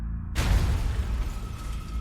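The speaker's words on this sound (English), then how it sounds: "The bomber heard a loud bang and saw the roof of Gary's car go flying into the air" A car bomb blast hits suddenly after a moment of near silence, a deep booming burst that rumbles on and slowly decays into a low roar for a couple of seconds, with no voices.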